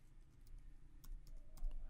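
Keys on a computer keyboard tapped while entering Java code, a few soft scattered clicks close by over a quiet room hiss, about two seconds.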